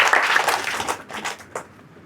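Audience applause at a spiritual meditation presentation by a swami, a dense burst of hand clapping that starts fairly loud and thins out over two seconds.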